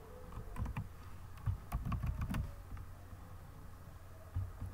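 Soft typing on a computer keyboard while writing HTML code, a short flurry of muffled taps in the first half, then quiet with low background hum.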